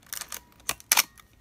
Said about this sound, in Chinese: 那这台的话这个快门、哦、快门正常可动